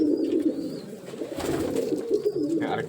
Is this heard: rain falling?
no